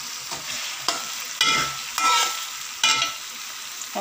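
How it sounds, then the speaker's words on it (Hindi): Tomatoes and spice masala fry in a pan while a spoon stirs them, bringing bursts of sizzling and scraping in uneven strokes, close and fairly loud, with no talking. "अब इनका मसाला भूनूंगी।"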